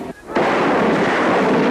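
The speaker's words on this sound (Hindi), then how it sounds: "What you heard right behind you were the sound of Bofors guns directly targeting the top of Tiger Hills" Bofors guns fire on Tiger Hills in the Kargil War: a sharp, loud blast breaks in and rolls into a sustained, heavy rumble.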